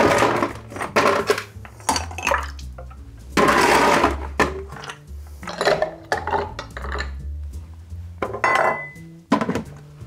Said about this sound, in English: Next, we're going to add a little bit of ice.